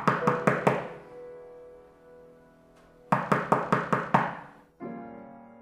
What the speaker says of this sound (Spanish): llamé débilmente a la puerta